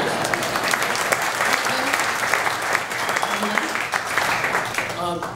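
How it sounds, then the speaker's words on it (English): A stand-up comedy audience breaks into sustained applause, dense and continuous clapping that fills the room and runs the whole stretch, with a few faint voices mixed in near the end. "you should give him a round of applause"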